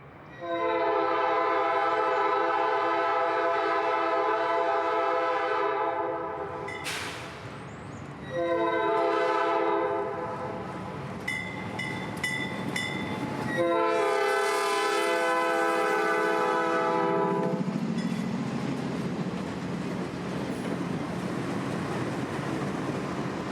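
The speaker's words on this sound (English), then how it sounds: "we'd be here for its backwoodsy crossing where the Georgia Central local would soon be passing" Georgia Central local freight train at a backwoods grade crossing, its horn sounding repeated loud blasts as it approaches, then the rumbling roll and clatter of rail cars passing close by.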